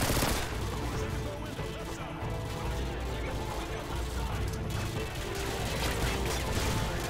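Sustained gunfire from the video game Modern Warfare 2, dense overlapping shots and mechanical clatter running continuously at steady loudness for several seconds, with no clear pauses.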